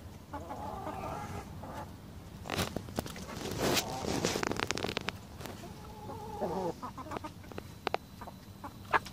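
Young chickens around 22 weeks old, kept on an organic allotment, cluck softly while feeding, with scattered scratching and pecking sounds close by and brief bursts of activity.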